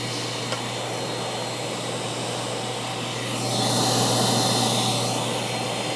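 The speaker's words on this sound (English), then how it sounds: "I'm going to turn that on and I'm going to suck the defoamer right up through the hose" A Tornado Surge carpet extractor running steadily, its motor whining with a constant airy suction as defoamer is drawn up through the hose, swelling slightly louder toward the end.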